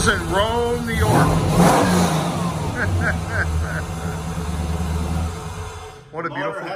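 A 429-horsepower car engine is started and revved in Rome, New York, rising and falling in a few strong mid-pitched surges, with people talking nearby over the idle.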